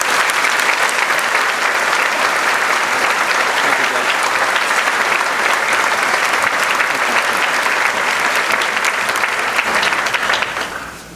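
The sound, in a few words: graduation audience round of applause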